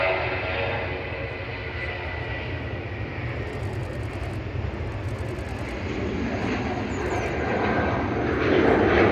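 A Boeing 787-10 airliner at Manchester Airport roars with a steady broadband jet-engine rumble that stays loud throughout and swells toward the end.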